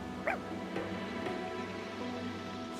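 A dog whimpers and yips in Fire Emblem Engage, a few brief, fairly faint cries over a steady hum of game music.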